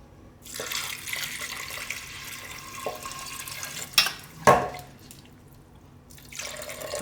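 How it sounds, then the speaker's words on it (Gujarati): Water pours from a tap into a pot of dal with salt and turmeric, a steady close splashing stream with a couple of louder sloshes, then trailing off into quiet. "અને આમાં આપણે હવે નાખી દઈશું પાણી."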